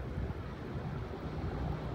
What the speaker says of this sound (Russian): Смотрите, какое судно идет по морю.